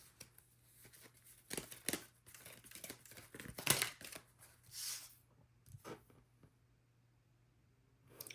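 Tarot cards are drawn and handled in a quiet room, with scattered close crinkling, sliding and flicking bursts of varying loudness separated by near-silent pauses.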